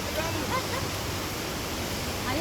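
Mangulila Falls, a waterfall, pours with a steady broadband roar of rushing water, close and continuous throughout.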